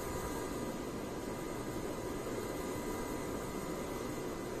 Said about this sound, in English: we've throttled back up those Merlin 9 engines